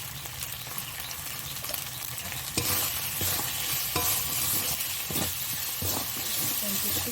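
Spice masala for a rohu fish kalia fries in a pan while a spoon stirs it continuously, giving a steady loud sizzle with scraping strokes throughout.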